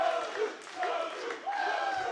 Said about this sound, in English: the crowd chants Kogu